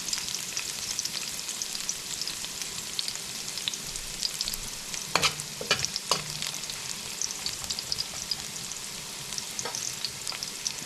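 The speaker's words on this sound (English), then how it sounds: "we're gonna start off by sauteing some garlic" Garlic sautéing in a pan with shrimp and bok choy, a steady close sizzle crackling throughout, with a few brief clinks of a utensil midway and no talking.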